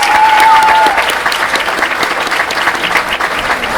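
A school auditorium audience at a fourth-grade ceremony applauding its students, a loud, dense and sustained wall of clapping running throughout, with a brief whistle-like tone near the start.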